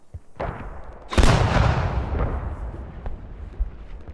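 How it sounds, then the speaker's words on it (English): Mortar fire on the Al Basrah battlefield in Squad, a heavy close blast with a long decaying rumble, framed by sharper distant thuds and scattered impacts. "Yeah, they're mortars."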